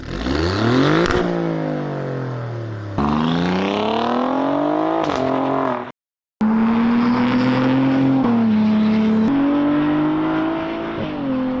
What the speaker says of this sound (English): But take a listen to the turbocharged V6 that are in Alfa Romeos.